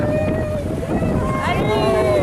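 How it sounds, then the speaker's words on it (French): A flat-bottomed motorboat motors along with a steady engine drone and rushing wind, while a voice speaks over it. "on a un bateau qui a pratiquement le fond plat"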